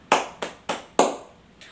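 Four sharp, separate claps spaced about a quarter-second apart, plus a faint fifth, from a few students applauding a classmate in a classroom during a biology microteaching lesson; close, fairly loud and without talk.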